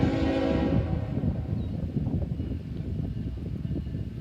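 A freight train passing through Greenwich, Ohio: a loud close horn blast at the start fades into a continuous heavy rumble and clatter of rolling wagons, with wind noise and no voices.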